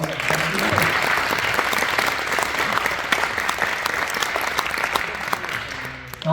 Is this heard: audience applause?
yes